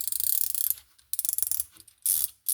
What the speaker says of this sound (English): you pop your socket onto there, and it becomes a socket wrench